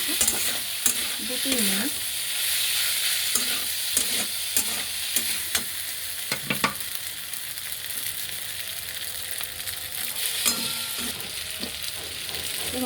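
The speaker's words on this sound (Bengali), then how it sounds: "পাস্তাগুলোকে নাড়াচাড়া করে নেব" Pasta is stirred through a sizzling pan for white sauce pasta, with repeated scraping and clattering strokes over a steady frying hiss. A voice speaks briefly.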